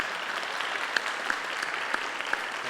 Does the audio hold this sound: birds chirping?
no